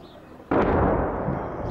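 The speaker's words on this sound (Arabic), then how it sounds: "قصف عنيف على مدينة داعل." A sudden heavy blast from shelling booms over the town of Da'el in Daraa, Syria, its deep rumble rolling on and slowly fading after a quieter opening moment.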